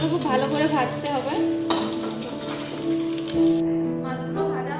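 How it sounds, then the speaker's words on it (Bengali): Fish sizzles and spatters in hot mustard oil in a wok, a dense continuous frying hiss with some stirring, steady and close. "মাছগুলো খুব ভালো করে ভাজতে হবে।"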